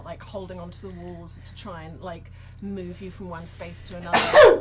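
A sudden, loud sneeze bursts out near the end after a stretch of someone talking steadily.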